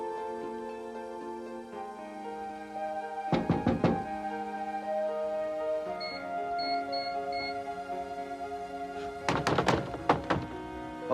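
Two bursts of firm knocking on a door, three raps then several more a few seconds later, over a quiet background of soft music.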